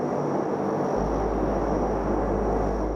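An old NASA P-3 military plane in flight gives a steady, loud, vibrating cabin drone that holds even and unbroken throughout.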